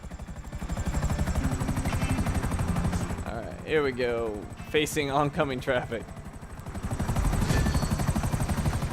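Helicopter in the video game Grand Theft Auto V: a steady rhythmic rotor chop throughout, loudest at start and end, with someone talking over it in the middle.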